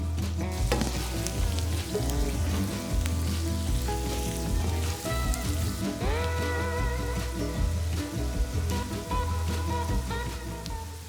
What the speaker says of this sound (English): all we need to do is cook the onion well